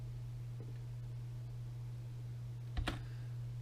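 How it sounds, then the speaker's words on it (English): A computer keyboard's spacebar is pressed, giving a quick double click near the end over a steady low electrical hum. "Let's press spacebar again."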